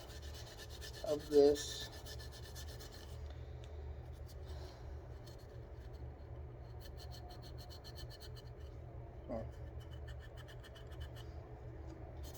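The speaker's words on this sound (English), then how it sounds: "There's not much to it, just keep on scrubbing." A gun slide is scrubbed by hand in short bursts of faint, close scratchy rubbing, with brief pauses between strokes over a low background hum. There is a few words of quiet speech.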